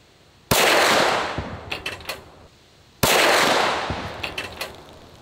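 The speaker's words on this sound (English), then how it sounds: "That sounded like a rifle going off." Two loud, sharp pistol shots fired at a torso target 100 yards away on an outdoor range. Each crack is followed by a long rolling echo and faint distant impact pops. The shots come about two and a half seconds apart.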